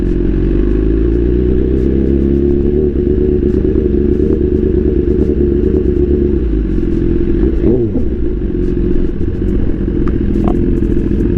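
A liter-class sport motorcycle engine droning steadily while riding, loud and close with a constant low rumble, slight throttle changes and wind noise, no talking.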